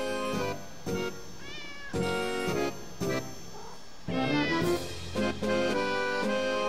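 A cat in the video game Bunker meows repeatedly, several loud close calls in uneven succession over a steady game music background.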